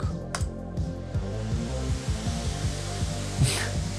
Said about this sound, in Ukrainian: шум вентиляторів був доволі гучним